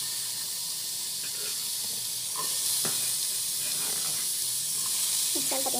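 Onion and chilli sautéing in oil in a home kitchen, a soft continuous hiss and sizzle with a few scattered stirring clicks.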